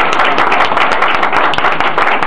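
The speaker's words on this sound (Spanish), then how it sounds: "Un aplauso." Loud, close applause from an audience at a presentation event in Guadalajara, a dense continuous clatter of hands with no pauses.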